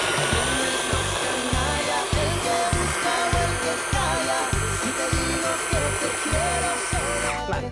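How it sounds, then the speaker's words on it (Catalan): A food processor grinding dates, a loud close motor whir with a strong pulsing, churning rhythm as the blades chop the sticky fruit, running steadily before cutting off at the end. "Anem a triturar els dàtils."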